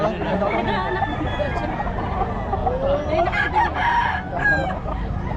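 A rooster crows loudly amid a busy poultry market scene of clucking fowl and background chatter.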